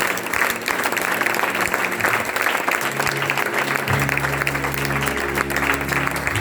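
Congregation clapping at a church celebration, dense continuous applause close by with a low sustained tone entering partway through.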